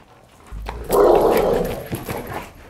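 A leash-reactive dog barks and yips during training, one sharp burst rising into a loud, sustained harsh bark that then tapers with a few softer whimpering yelps, heard nearby with no talking.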